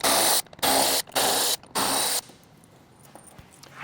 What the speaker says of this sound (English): So you'll need an 8mm socket with a wrench or an electric tool,